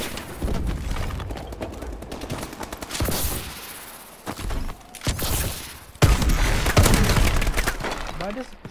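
Shotgun blasts and other gunfire ring out in the futuristic shooter Call of Duty: Advanced Warfare, several sharp booming bursts at irregular intervals amid a busy, dense battle mix with a heavy burst near the end.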